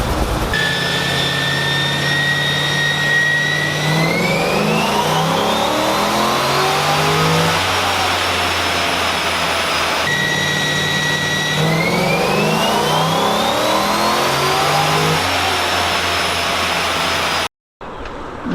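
A 2002 Corvette C6 strapped down on a dyno with a fan blowing on it makes a full pull: the engine revs rise steadily through the gears, climbing and shifting twice, loud and continuous, before cutting off abruptly near the end.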